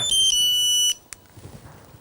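An electronic phone ring sounds loud and close for about a second, a high steady tone, then cuts off to quiet background.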